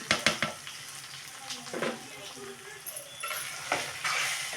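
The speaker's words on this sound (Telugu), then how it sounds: "రవ్వ అయితే కొంచెంసేపు అయితే వేయించుకుందాం" Dry semolina (rava) roasting in a pan for ragi upma, giving a soft, close scraping and light sizzling texture with faint stirring clicks throughout, fairly quiet, with occasional kitchen noises.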